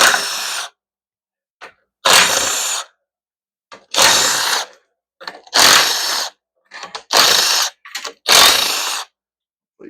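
Bursts of ratchet clicking from a hand wrench backing out 13mm bolts on an automatic transmission pan, five or six separate close, loud runs divided by short silent pauses.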